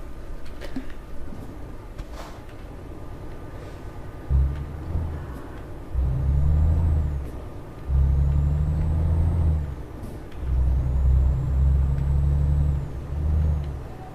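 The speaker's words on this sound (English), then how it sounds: "I'm currently driving a Volvo FH16" A Volvo FH16 truck drives in Euro Truck Simulator 2, its deep diesel engine droning in steady stretches that rise and fall with gear changes, with a soft air hiss and faint clicks before the engine note swells.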